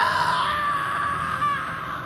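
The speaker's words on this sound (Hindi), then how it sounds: "उस परछाई के बारे में सोच ही रहा था कि इतने में ही किसी के चीखने की आवाज सुनाई थी" A long, sustained wailing scream, strained and steady in pitch with a slight waver, heard alone and fairly loud for about two seconds.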